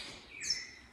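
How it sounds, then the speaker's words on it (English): Birds chirp and tweet outdoors in Costa Rica, a bright high call rising briefly over soft ambient background, fairly faint and distant. "Can you hear all the birds?"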